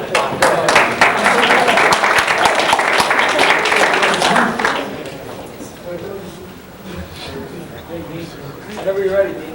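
Dense applause from a track team banquet audience for an award recipient fills the first half, then tapers off into scattered claps and murmuring voices.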